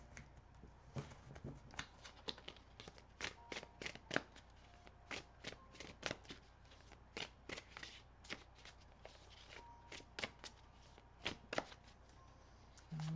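Tarot cards being shuffled over and over, a steady run of crisp riffling flutters and soft slaps, close and fairly quiet with no talking.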